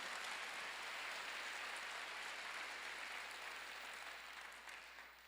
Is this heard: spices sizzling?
no